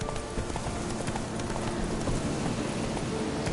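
Steady hoofbeats of a horse clip-clopping in a PS4 video game, continuous and evenly loud throughout, with a faint rain-like hiss in the background.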